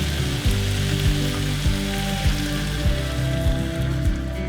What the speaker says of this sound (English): I'm going to add in about 3/4 a cup of heavy cream